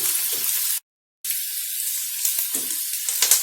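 Chopped onions and slit green chillies sizzle steadily in a hot pan while being sautéed for a jackfruit masala curry, a close, continuous hiss broken by a short silent gap.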